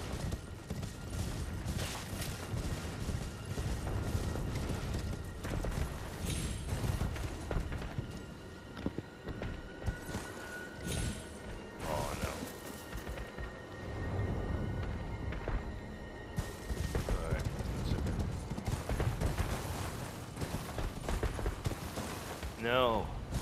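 A horse galloping in the video game Elden Ring, with rapid rhythmic hoofbeats and mechanical clatter under someone talking, interrupted by sharp bursts and scattered game effects.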